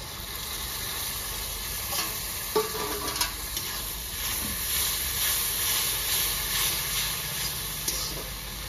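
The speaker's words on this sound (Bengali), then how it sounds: "জল দিয়ে ঘুলে নিলাম যাতে মশলাগুলো পুড়বে না। দিয়ে দিচ্ছি আমি মশলাগুলো।" Water-thinned spice paste sizzles steadily in a hot pan while chicken and potato curry is cooked, a constant frying hiss with occasional stirring scrapes and small pops close by, no talking.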